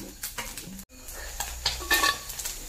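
Fish frying in a pan in a home kitchen, a crackling sizzle broken by scraping stirs and clinks of a utensil against the pan, close and fairly quiet.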